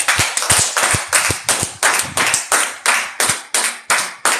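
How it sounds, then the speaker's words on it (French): A church congregation clapping in a steady rhythmic beat, sharp close claps repeating about three times a second, loud and unaccompanied by talk. "Est-ce que tu peux acclamer pour cela?"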